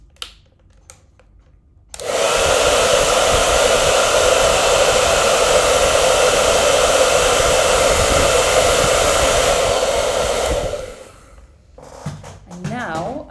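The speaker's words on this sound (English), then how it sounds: "Just going to use that hairdryer again," A hair dryer blows to dry a sponge used for acrylic painting: a loud, steady, close whoosh and motor whine running about eight seconds, then cutting off, with a few faint handling sounds before and after.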